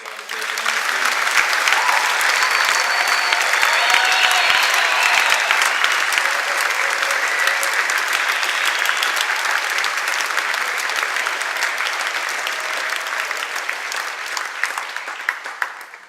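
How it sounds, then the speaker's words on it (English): A concert audience gives a long, loud round of applause for the children after a performance, dense and sustained clapping that holds steady for about sixteen seconds before tapering off. "can we please give one more big round of applause for the kids from John"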